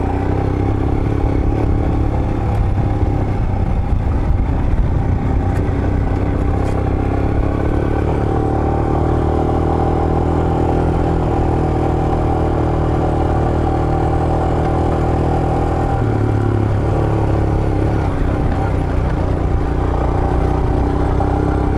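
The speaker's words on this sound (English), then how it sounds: "following Mark on the Himalayan" Royal Enfield Himalayan 411 motorcycle being ridden, a loud steady engine drone with wind rush throughout, rising slightly in pitch near the end, recorded close from a following bike.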